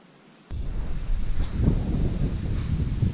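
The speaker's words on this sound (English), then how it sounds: "I've got a good steady wind blowing right at me" Steady wind on the Appalachian Trail near Bennington, Vermont blows straight into the microphone, starting abruptly after a short quiet moment and then buffeting continuously with a low, rumbling roar.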